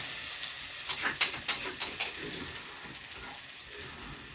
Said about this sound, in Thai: ตั้งน้ำมันให้ร้อนจ้า กระเทียมกับพริกไทยจ้ะ